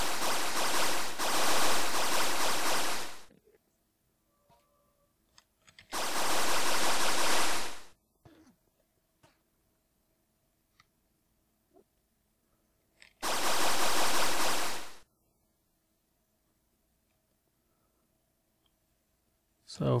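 Flowing water in the Minecraft video game, heard as three loud, broadband bursts of rushing noise a few seconds each, separated by near-silence with faint clicks.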